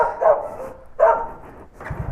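A dog barks a few times on a street during a food delivery stop, two loud close barks about a second apart followed by a softer one, with no talk over them.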